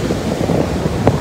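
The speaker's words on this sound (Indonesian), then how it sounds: "tidak bisa menahan kuatnya gelombang laut yang menghantam pesisir" Strong sea waves striking a coastal shore beside a seawall, a loud continuous roar of surf mixed with heavy wind buffeting the microphone.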